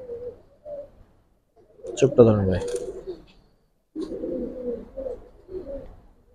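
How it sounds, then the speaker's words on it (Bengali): Giribaj pigeons coo in low, throaty bursts near the listener, in short phrases separated by pauses, while someone talks nearby. "এটা একটা লাল গিয়ারের ভিতর একটা সুন্দরী কবুতর বলা যায়।"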